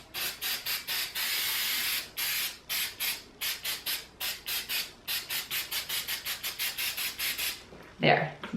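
Repeated short bursts of an aerosol spray can hissing onto fabric for pumpkin decorations, some long and some quick, in a steady rhythm, ending with a brief rustle.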